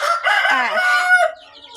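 A young rooster crows once, loud and close, a long harmonic call in a pen of about fifty hens, trailing into faint soft clucks at the end.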